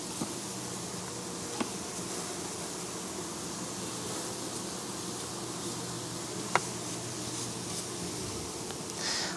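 Dense, continuous buzzing of many honeybees close by at a top bar hive, a steady drone with a couple of faint clicks or knocks.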